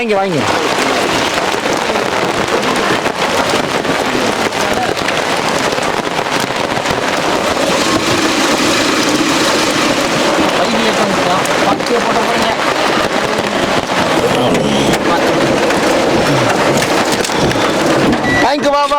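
Heavy rain pours steadily during an outdoor food service for sadhus in Tiruvannamalai, a loud, dense wash of drops on surfaces that continues for the whole stretch.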